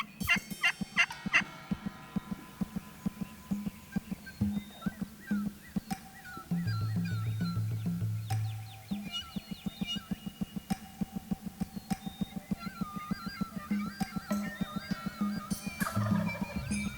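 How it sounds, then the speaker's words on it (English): A wild turkey gobbles repeatedly outdoors, its rattling calls rising and falling amid other bird sounds, with a low droning hum partway through. "a turkey like that just will not stop gobbling"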